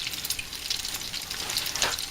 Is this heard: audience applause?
no